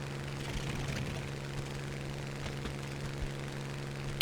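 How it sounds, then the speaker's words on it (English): A steady, droning fighter plane engine at war emergency power in War Thunder hums continuously with a strong low tone and rough, buzzing texture, loud and close throughout. "That noise you can hear is me using the war emergency power on the engine."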